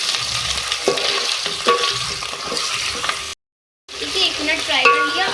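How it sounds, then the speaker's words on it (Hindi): Golden-brown onions sizzle and fry with ginger-garlic paste in a pan, with repeated stirring scrapes over a steady hiss, a brief silent gap, then the frying sizzle resumes close and loud. "अब इसके अंदर मैं ऐड करूँगी अदरक लहसुन का पेस्ट 2 खाने के चमचे, को भी फ्राई कर लें इसके साथ।"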